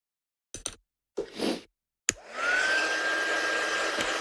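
Heat dryer drying a craft project switches on after a few soft clicks and handling knocks, then blows a loud, steady whirring rush with a thin whine, running continuously to the end without speech.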